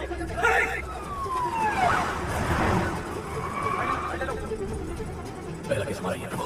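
A police siren sweeps up and down at a moderate distance while people talk over it and traffic hums beneath.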